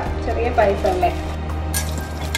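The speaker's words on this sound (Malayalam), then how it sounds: "ഇനി കുറച്ച് കിസ്മിസും കൂടെ ഫ്രൈ ചെയ്യും." Raisins sizzle and crackle in hot ghee in a pan for Onam date payasam, a steady close frying hiss under someone talking, with a low background hum.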